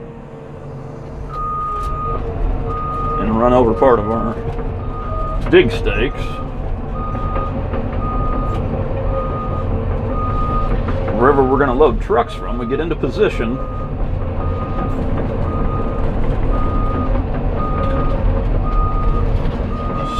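A Cat 323F excavator tracking in reverse sounds a steady, evenly spaced beeping alarm over the low engine rumble, while someone talks nearby throughout.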